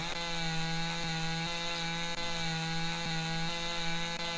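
A chainsaw cuts wood in the Lumberjack's Dynasty video game, its engine holding a steady buzzing whine broken by small regular clicks as the chain bites, heard alone.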